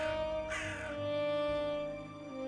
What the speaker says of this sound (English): You know what they call a group of crows?